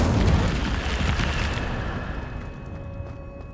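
A fire spell is cast in a Hogwarts video game, a loud, broad roaring whoosh that starts strong and gradually fades over a few seconds, heard alone without talk.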